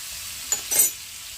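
Chayote frying in a pan with soy sauce and lemon juice, stirred with two short scrapes and a brief burst of sizzle over a steady, faint background hiss.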